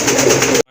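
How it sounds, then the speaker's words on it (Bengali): Domestic local pigeons give a short, close, fairly loud cooing burst that stops abruptly, with no talk. "মাশাআল্লাহ এখানে দুইটা কবুতর দেখতে পাচ্ছেন"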